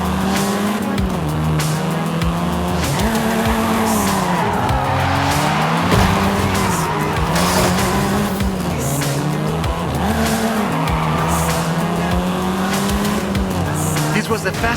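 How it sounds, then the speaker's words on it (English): Volkswagen Golf R driven in the racing game Forza Horizon 5, its engine revving up and down in repeated surges with tire squeal and skids, loud and continuous throughout. "This version is the Volkswagen Golf R,"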